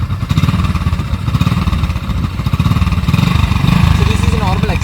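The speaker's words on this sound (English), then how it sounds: "this is the normal exhaust sound of a glamour bike." A Glamour motorcycle's engine runs with its normal stock exhaust, giving a steady, close, mid-pitched putter that holds throughout with a fairly even rhythm.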